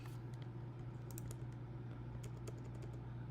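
Typing on a computer keyboard connected to a Mac, a quiet run of scattered key clicks over a steady low hum, with no voices.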